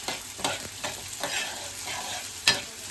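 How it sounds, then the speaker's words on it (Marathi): Onion sautés in oil in a pan for a Konkan-style fresh cashew vegetable dish, with a constant close sizzle broken by rhythmic scraping stirs of a spoon. "तर हे बघा तर कांदा परतून घ्यायचा आहे."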